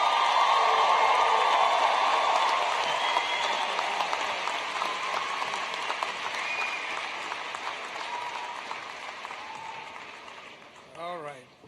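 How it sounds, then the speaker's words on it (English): Applause and cheering from a graduation crowd at a university fall commencement ceremony, dense and loud at first, then gradually thinning as it fades near the end. "Let's give our speaker another round of applause."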